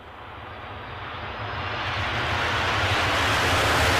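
A German Airways Embraer 190 jet at Edinburgh airport on an icy day, its broad engine roar swelling steadily louder with a low rumble underneath, heard from a distance without talk.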